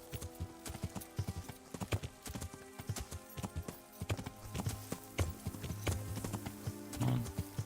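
Horse hooves clip-clopping across an open field in the video game Kingdom Come: Deliverance, a steady trotting rhythm of distinct thuds with a brief whinny-like sound near the end.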